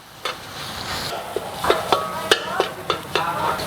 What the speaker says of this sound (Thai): ร้อนพอได้ที่ก็เติมหนำเลียบที่เราตำไว้นะคะ ลงไป แล้วก็ผัดให้หอมค่ะ